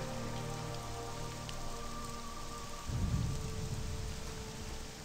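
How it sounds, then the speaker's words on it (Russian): Rainy weather in the game Morrowind: constant gentle rainfall patters throughout while a low rumble of thunder swells near the middle, all over quiet background music, no speech. "мерзкий дождик."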